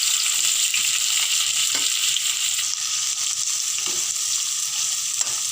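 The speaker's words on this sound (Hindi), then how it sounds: "अब प्याज को हम ब्राउन होने तक भून लेंगे।" Onions fry in hot oil with cumin seeds, a pinch of asafoetida and chopped green chillies, giving a loud, steady, close sizzle with occasional faint stirring scrapes and no voices.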